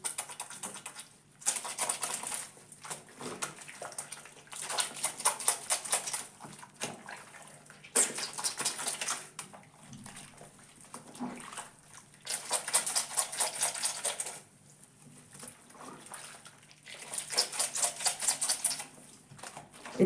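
A soapy wet cloth is squeezed and wrung by hand in the Jamaican scroops washing technique, giving bursts of squeaky, wet squelching that come in rhythmic pulses, close and fairly quiet.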